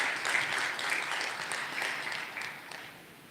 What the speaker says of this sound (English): With a round of applause, if I can hear, if it's been productive, yeah?